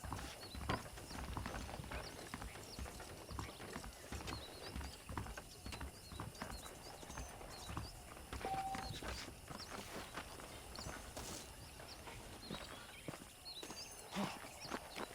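Horse hooves clip-clop at a steady walking pace in the Red Dead Redemption video game, a rhythmic, moderately close clatter over a busy background of game mechanisms and ambience.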